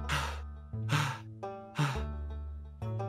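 A voice imitates a short female dwarf breathing heavily: four loud, breathy gasping inhales and exhales in a steady rhythm, close to the microphone, with a faint voiced hum under each breath.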